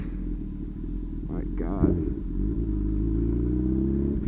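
A Honda CB1000R engine with aftermarket exhaust rumbles deep and throaty at close range, with a brief rev in the middle, as a man exclaims over it.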